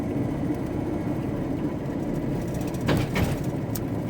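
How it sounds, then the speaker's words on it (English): A steady low rumble of a train rolling along into Edinburgh, Scotland, with a brief rattling, clanking swell partway through. "Train."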